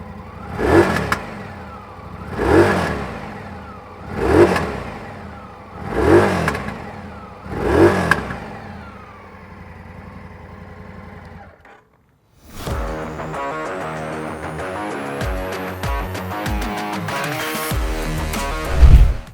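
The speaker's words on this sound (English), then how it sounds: "let's check out how does this V-twin engine sounds like" An Indian Scout Sport V-twin motorcycle engine revs hard five times in a steady rhythm, drops to near silence, then idles and climbs again with a rough, clattering roar.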